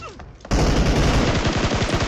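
Automatic gunfire in the mobile game PUBG Mobile starts abruptly after a quiet moment, a loud rapid burst of closely spaced shots that keeps rattling to the end.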